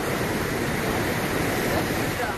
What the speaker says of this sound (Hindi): उत्तरकाशी में गंगा की लहरों का ये शोर खौफ पैदा कर रहा है।